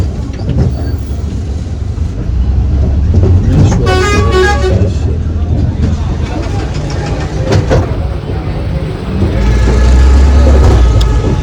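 A city bus on a five-rupee ride rumbles along with a low engine drone while a horn honks in short bursts midway, amid steady traffic noise and some voices nearby.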